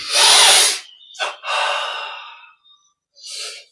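A person breathes during a meditation exercise: a strong, close inhale, then a short sniff and a longer airy breath, followed by a fainter breath after a pause.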